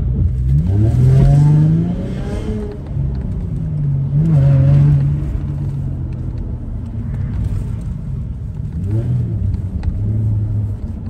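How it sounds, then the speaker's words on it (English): A car launches at low revs on an autocross course at Mission Raceway, its engine rumbling and climbing through revving pulls with gear changes, loud and close throughout. "just launched it at 1k RPM"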